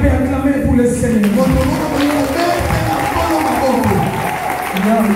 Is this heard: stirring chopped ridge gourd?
no